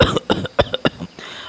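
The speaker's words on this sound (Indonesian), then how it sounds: "Orang tua berkepala botak itu batuk-batuk beberapa kali." An old man coughs several times in quick, uneven bursts, close and fairly loud, with short pauses between them and no speech.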